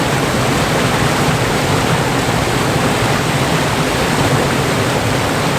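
A waterfall roars as a loud, steady broadband rush of falling water, heard up close and unbroken throughout.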